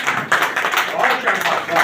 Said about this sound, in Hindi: सब लोग खड़े होकर ताली बजाइए भाई। जोरदार ताली बजाओ भाई सबको